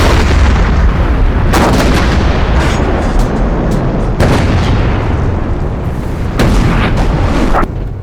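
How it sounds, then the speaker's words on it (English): Heavy artillery shelling from a World War I battle at Vimy: dense, continuous booming and rumbling fire, with louder shell bursts rising above the barrage throughout. "The heavy shelling has started."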